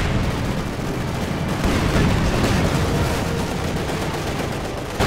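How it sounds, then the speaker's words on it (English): T-34 tank cannon and battle fire in Company of Heroes 2, a dense continuous roar of gunfire and explosions filling the scene, loud and unbroken with no talk. "T-34 firing in"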